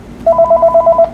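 A telephone rings with a rapid series of short electronic beeps, about seven even pulses in quick succession, loud and close.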